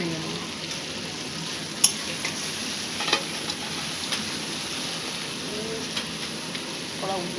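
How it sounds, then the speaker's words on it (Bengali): Fish head frying in spice paste in a pan, a continuous hiss of sizzling with occasional spatula scrapes and taps, steady and close throughout. "আমরা মুড়োটা দিয়ে কষে নিচ্ছি"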